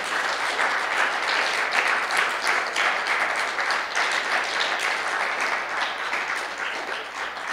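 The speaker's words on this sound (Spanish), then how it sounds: "Dele un aplauso y déselo fuerte." A church congregation applauds loudly at a sermon, a dense, steady wash of clapping that holds at full strength for the whole stretch with no talk over it.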